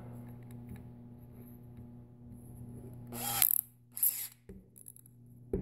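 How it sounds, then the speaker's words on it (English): Power drill fitted with a driver bit whirs in short bursts while twisting a WingGard twist-on wire connector, against a steady low hum in a quiet room. "So you just install it in a drill."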